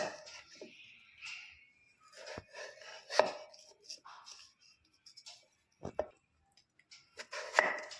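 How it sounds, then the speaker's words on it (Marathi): A knife chops a peeled potato into medium pieces on a board, giving a few sharp, irregular close thuds separated by quiet gaps. "सुरुवातीला आपण आलू कापून घेऊया"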